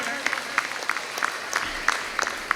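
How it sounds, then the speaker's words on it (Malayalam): At a residents association's Onam celebration, a small gathering claps for award-winning students. The clapping is sparse and scattered with crisp individual hand claps, and a voice keeps talking underneath. "എല്ലാവരും ഒന്ന് കൈയടിച്ച് പ്രോത്സാഹിപ്പിക്കണേ"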